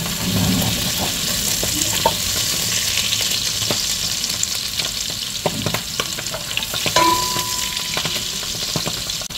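Butter sizzles steadily in olive oil in a pan, a loud continuous frying hiss with occasional pops and clinks of a utensil, and no voices.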